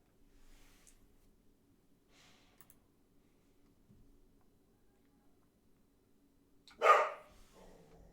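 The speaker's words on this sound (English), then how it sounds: "Apologise for dog noises." A house dog gives a single sharp bark, loud and close, reacting to something outside, standing out from an otherwise near-silent room with faint scattered noises.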